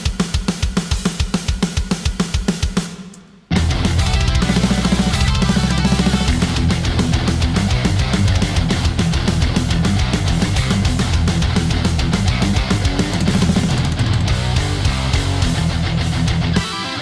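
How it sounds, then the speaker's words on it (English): A pre-mixed drum track plays on its own, a dense steady groove of punchy kicks, snares and busy cymbals, loud and continuous after a brief rhythmic lead-in and a short gap. "And these are the drums on their own."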